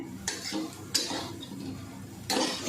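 Wet green pea chutney is sautéed and stirred in a pan, with a few sharp scraping strokes of a spoon against metal over a soft background sizzle, nearby and fairly clear, with no talking.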